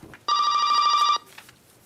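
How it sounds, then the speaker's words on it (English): A telephone rings once for an incoming caller during a city planning commission meeting: a single bright electronic trill lasting about a second, clear and close, followed by quiet room noise. "Greg, do we have anyone on the phone?"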